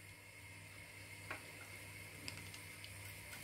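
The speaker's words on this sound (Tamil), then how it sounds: "இப்போ உளுந்தை சேர்ப்போம்." Urad dal frying in hot oil with mustard seeds for tomato chutney gives a faint, steady sizzle with a few small pops and ticks.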